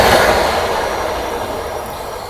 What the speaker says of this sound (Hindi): तो बगल से हुई है किसी ट्रेन की क्रॉसिंग